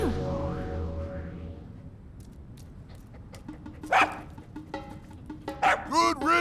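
Dog in Breath of the Wild barking and yipping in a few short bursts near the end, after fading game music, with some whimper-like tones.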